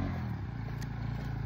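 A motorcycle engine strains while climbing a steep hill road near Mirik, Darjeeling. It gives a continuous low, rough drone that stays steady and close throughout, with no talking.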